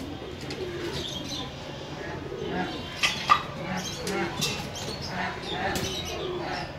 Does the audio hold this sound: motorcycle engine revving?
no